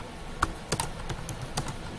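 A computer keyboard clicks softly as a blog comment is typed, giving a few scattered, irregular keystrokes over a low background hum.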